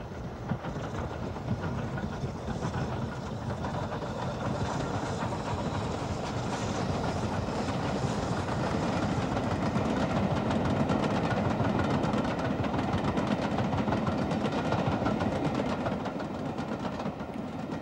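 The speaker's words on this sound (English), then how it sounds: "The final 9F, also preserved directly out of service, is Evening Star, seen here on an excursion from Scarborough to York." British Railways 9F steam locomotive Evening Star, the last steam engine built at Swindon in 1960, runs on an excursion from Scarborough to York, giving a steady, moderately distant rumble with rail clatter throughout.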